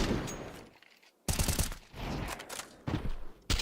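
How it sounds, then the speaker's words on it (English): Rapid rifle gunfire crackles through a competitive shooter esports match, with several loud bursts of shots separated by brief quieter gaps, close and dominant. "Cracking headshots from GameZilla"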